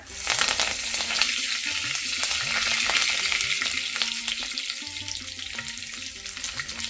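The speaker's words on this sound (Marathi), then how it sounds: "यामध्ये तेल तापल्यावर सर्वात प्रथम आपण हिंग घालायचंय। हिंग घातल्यानंतर त्यामध्ये थोडं जिरं घालायचं आहे, थोडी राई घालायची आहे" Asafoetida, cumin, mustard seeds and curry leaves sizzle in hot oil for traditional festival vegetables, giving a loud, continuous frying hiss with light spatters and occasional stirring, and no voices.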